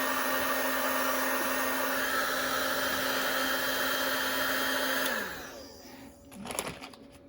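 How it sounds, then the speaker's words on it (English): A heat gun blows with a steady whirring roar, drying paint on a 1986 Suzuki GSX-R 750 motorcycle part, then winds down as it is switched off, followed by light handling clatter. "once this is kind of dried up a little bit, which I can help along with the heat gun"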